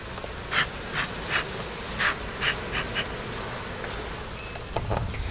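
Bees swarming around an opened hive, with a low steady hum and repeated brief, louder buzzes as individual insects fly close past.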